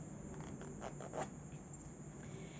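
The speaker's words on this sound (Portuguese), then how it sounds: "Vou passar o cursor inteiro até sair do outro lado, pra gente deixar o zíper fechado." A zipper slider drawn along the zipper of a small fabric eyeglass case, two or three soft quick rasping pulls, close and quiet with no talk.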